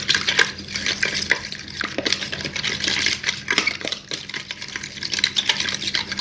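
Yeast being stirred into a sugar mixture in a bowl for naan dough, a steady close scraping and swishing of spoon through liquid with soft clinks, continuous for several seconds with no talking.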